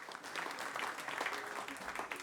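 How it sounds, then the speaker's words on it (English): Live audience at a country songwriter round show applauding a performer, steady dense clapping filling the room throughout without pause. "Y'all give him a big hand."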